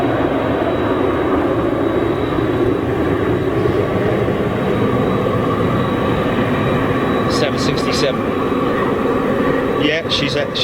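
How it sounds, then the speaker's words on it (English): Jet airliner engines at Manchester International Airport make a loud, steady roar that fills the whole stretch, with brief clicks near the end. "Now those engines that you're hearing there"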